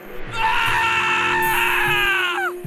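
A loud, sustained anguished scream from a man, a horror-story effect of a possessed man hanging upside down on a wall and vomiting blood, held for about two seconds alone before trailing off.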